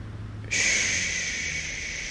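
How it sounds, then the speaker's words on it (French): A single slow inhale through the nose during a relaxation breathing exercise, a soft, close, airy hiss that begins sharply and holds steady for more than a second, no talking. "on inspire ici avec le nez, on inspire et on expire"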